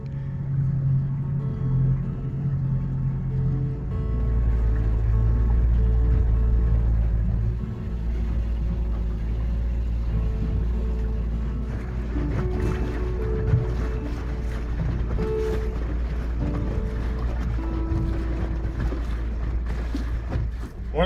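A steady low engine rumble with water wash as a shanty boat motors down a river, continuous throughout with a faint voice now and then.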